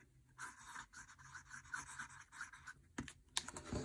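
A medium Sailor Naginata Togi fountain pen nib scratches across paper in quick, close strokes, a faint dry rasp with a few sharper ticks near the end.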